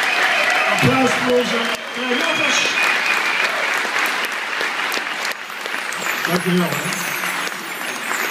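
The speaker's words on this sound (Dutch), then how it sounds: "Ja, geef ze nog even applaus." Theatre audience at a Blof concert in the Schouwburg Middelburg gives sustained, dense applause, a continuous wash of clapping with a voice speaking over it.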